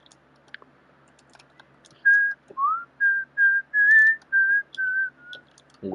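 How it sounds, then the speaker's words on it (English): A person whistles a short melody of about eight clear, sustained notes that start after two seconds of near quiet. The tones are close and loud, with faint clicks scattered before them. "Whistling a little too."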